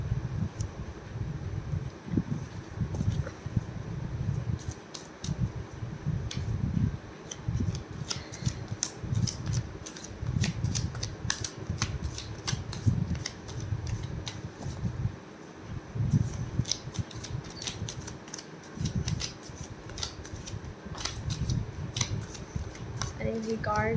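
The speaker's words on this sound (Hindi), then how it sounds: "थोड़ा सा और शफल कर लूँ।" Tarot cards being shuffled by hand, a continuous soft papery riffling and flicking close to the microphone, with light rustling throughout and a few sharper snaps.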